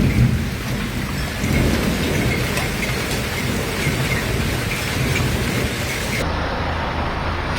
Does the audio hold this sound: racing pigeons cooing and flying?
no